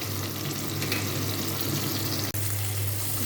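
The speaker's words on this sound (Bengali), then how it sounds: "মাছটা আগেই ভেজে নিচ্ছি।" Fish sizzles steadily in hot oil in a pan, a close, continuous frying hiss with a low hum underneath, one brief dropout near the end, no talking.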